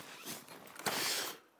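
The zipper on an F-stop camera bag is drawn along in a single steady, close rasping pull lasting about a second and a half, with a brief louder tug partway through, heard alone without talk.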